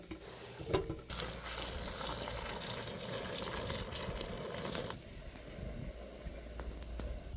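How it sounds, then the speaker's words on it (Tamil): Water boiling vigorously in a pot, a steady close bubbling and hissing with a few louder pops, no one speaking. "தண்ணி நல்லா கொதிக்குது"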